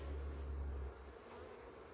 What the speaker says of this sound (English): because I'm checking the behavior of the bees